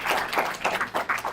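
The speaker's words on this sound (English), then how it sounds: "Can you give a clap, please?" An audience at an AGM gathering claps in a short burst of scattered hand claps, close and fairly loud, with no talking.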